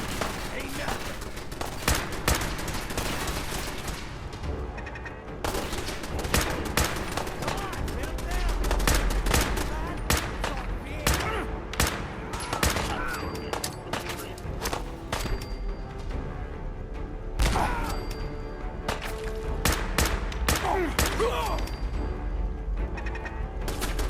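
A Fallout 4 firefight: loud bursts of automatic gunfire and rapid single shots crack repeatedly, with gaps of quieter ambience between volleys, while a voice talks intermittently.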